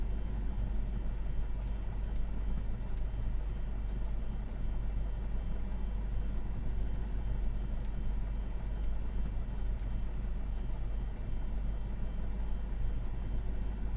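A small airplane engine idles steadily while the plane is parked, a continuous low droning rumble heard close and unbroken, with no talking.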